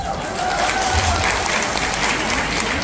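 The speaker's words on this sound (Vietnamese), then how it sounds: "Và bây giờ là dành cho chính chúng ta một tràng pháo tay các anh chị." A crowd at a Vietnamese respiratory health seminar applauds, a thick, sustained wash of clapping that fills the room, with faint voices mixed into the noise.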